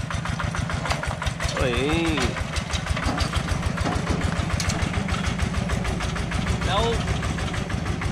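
A vehicle engine idles with a steady low rumble, then pulls away in second gear, its note rising, while people talk loudly over it.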